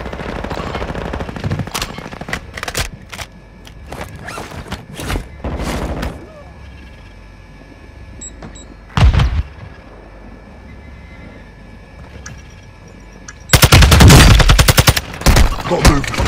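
Machine gun fire in the Warzone 2 video game: short staccato bursts of automatic fire pop repeatedly, ending in a louder sustained burst near the end, with quiet game ambience and occasional in-game voice between.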